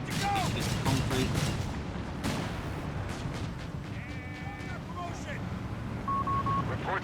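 Twin mortar cannon fire in the game Company of Heroes 3, several sharp booming shots in quick succession early on, then rumbling battle noise beneath a talking commentator.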